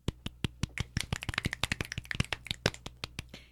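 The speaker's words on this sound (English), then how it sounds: "Golf clap." Golf clap, a quiet and even patter of light hand claps, about a dozen per second, close by and alone.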